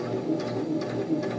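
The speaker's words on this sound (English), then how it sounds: "I can put it down and I continue sewing." A beginner-friendly sewing machine with a needle threader stitches at a steady pace, its rapid mechanical clatter close and continuous.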